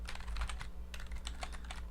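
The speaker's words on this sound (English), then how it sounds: "hopefully the sound of the keyboard isn't getting drowned out too much" Rapid typing on a computer keyboard, close and clear, in irregular bursts of clicky keystrokes with a brief pause midway, over a steady low hum.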